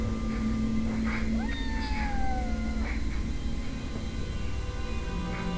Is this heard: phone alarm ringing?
no